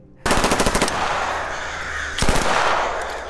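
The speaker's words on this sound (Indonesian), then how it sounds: "Pak pelatih lalu melampiaskannya dengan tembakan di atas para trainee." Rapid bursts of automatic gunfire fired over trainees' heads, loud and close: a sharp rattling volley, a sustained ringing tail, then a second short burst.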